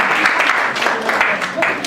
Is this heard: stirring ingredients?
no